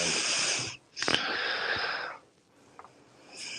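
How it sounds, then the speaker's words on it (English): Heavy, close breathing straight into a microphone by a guest on a wrestling talk show, loud wheezy exhales with brief pauses between breaths and no talking. "We can hear you breathing."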